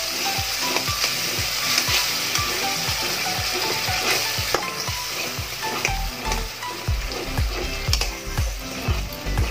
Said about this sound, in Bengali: খুব ভালোভাবে ভেজে নেব।